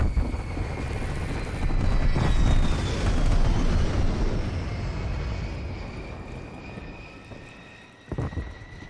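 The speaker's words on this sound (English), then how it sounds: "Enemy spy plane inbound." A hostile spy plane passes overhead in a shooter video game, a broad roaring engine drone swelling louder then slowly fading, thin high whines above it and a short burst of other game noise near the end.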